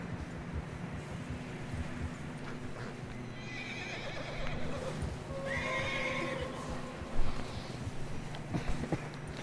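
Horses in Red Dead Redemption 2 whinnying and clip-clopping over fresh snow on a narrow trail, a couple of neighs rising over soft, steady hoofbeats and faint wind.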